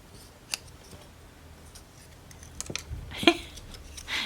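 Scissors trimming small paper pages for a miniature book, a few sparse close snips and clicks separated by quiet pauses, with a sharper cut near the end.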